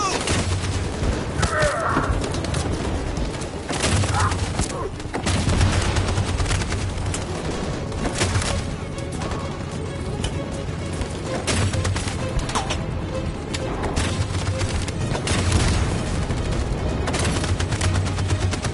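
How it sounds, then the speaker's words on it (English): Sustained machine gun fire in a Detroit: Become Human battle, a dense continuous clatter of shots with booms and game ambience and faint voices mixed in throughout. "That machine gun is taking down everything that moves!"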